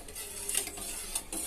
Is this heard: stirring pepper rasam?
yes